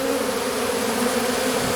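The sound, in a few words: honeybee swarm buzzing entering hive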